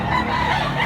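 A gamecock from Mantalungon, Cebu, crows nearby in one short, loud, sustained call over a low murmur of background noise.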